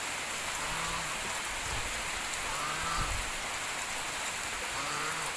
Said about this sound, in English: The weather is so cold because of raining outside.